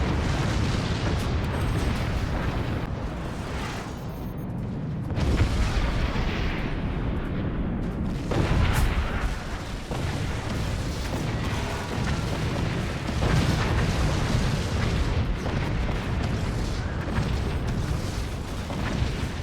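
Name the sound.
video game howitzers firing, structure crumbling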